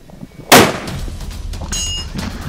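A single sharp, loud blast from a Beretta BRX1 rifle chambered in 300 Win Mag on a shooting range, followed by a brief echoing tail and a faint metallic clink.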